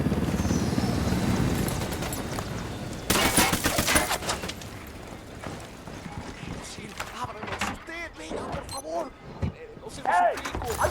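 Gunfire from the Ghost Recon Wildlands video game: a sudden volley of rapid automatic shots breaks out, followed by scattered bursts and single cracks, with voices talking in between.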